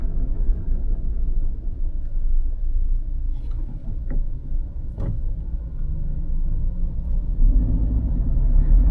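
Suzuki Jimny GLX 5-door driving through city traffic in South Africa, a steady low engine and road rumble heard from inside the cabin, with a couple of faint brief clicks midway and a slight swell near the end.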